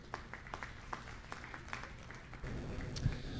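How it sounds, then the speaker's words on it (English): Sparse, scattered clapping from a small crowd at an Aberdeen cattle show at the National Western Stock Show, honoring show winners, faint and somewhat distant, with a low rumble and a thump near the end. "Let's give these guys just a tremendous round of applause."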